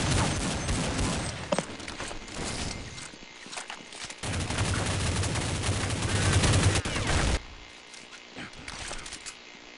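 Video game gunfire from a shooter, bursts of rapid shots and sustained automatic fire with brief gaps, loud and dense, with some talk underneath.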